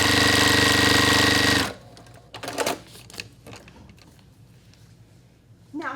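A sewing machine stitches quilt pieces together in a fast, loud mechanical burst that stops abruptly, followed by quiet handling sounds and a short restart at the end.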